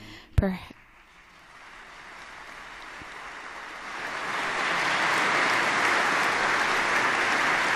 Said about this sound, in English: L'applauso lo hanno incominciato le suore.